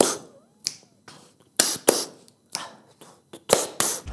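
A stacked cymbal, the Meinl Smack Stack, struck in short sharp bursts to mimic handclaps in a drum cover, dry trashy hits landing in an irregular rhythm with quick decays and brief silences between.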